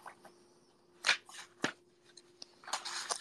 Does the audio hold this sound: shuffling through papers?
yes